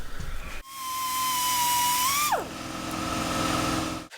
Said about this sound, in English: you should be able to just take a little die grinder or even a hacksaw and cut off this outer ring